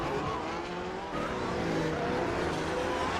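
Race cars roar through the Monaco pool section in rFactor 2, a dense, continuous high-revving engine drone with shifting pitch and faint tire squeal, loud and unbroken.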